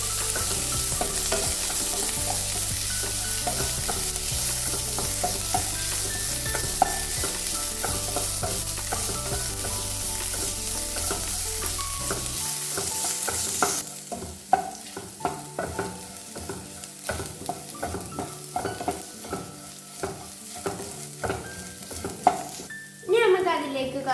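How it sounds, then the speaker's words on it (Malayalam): Garlic and green chillies are stirred in a hot pan for a ginger-tamarind relish, with a dense sizzle under repeated scraping strokes, and the frying noise drops away partway through while the stirring continues. "വെളുത്തുള്ളി പച്ചമുളക് ഇനി നമുക്കത് നന്നായി മിക്സ് ചെയ്യാം"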